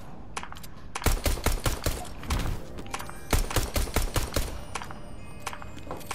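Pistol fire in a video game rattles off in rapid, uneven bursts of sharp cracks, loud and close, with brief pauses between volleys and no speech.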